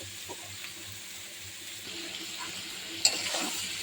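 Malabar spinach cooking in a pan with onion and chili, giving a quiet, steady sizzle and hiss with a soft stirring scrape and a brief clink near the end.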